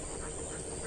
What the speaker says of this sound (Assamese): এইফালে হাঁহ আছে পুৰা এইবিলাক হাঁহবিলাক দেখিছে নে